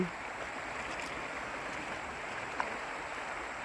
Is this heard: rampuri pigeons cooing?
no